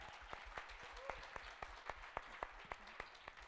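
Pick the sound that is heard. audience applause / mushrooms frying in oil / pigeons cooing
audience applause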